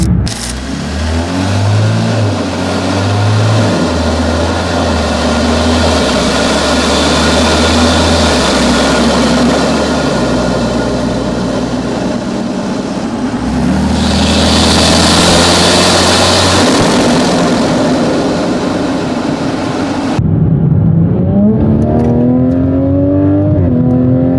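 A Toyota Supra with a B58 engine, upgraded intake and charge pipe, valves closed, revs repeatedly from idle in loud rising and falling sweeps, with a turbo whoosh in the middle and a final rev, recorded close to the intake.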